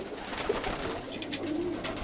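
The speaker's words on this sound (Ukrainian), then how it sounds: "легенькі такі всі голуби, жорсткі, помітно, що робочі голуби" Working pigeons cooing, a series of soft, low coos repeating over a steady outdoor background.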